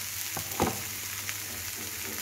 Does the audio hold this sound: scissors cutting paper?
no